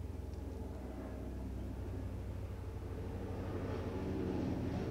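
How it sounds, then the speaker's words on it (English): A crop duster airplane passes overhead in the countryside as a low, steady droning rumble that swells slightly louder toward the end, with no talking. "Oh, it's not a helicopter, it's a crop duster."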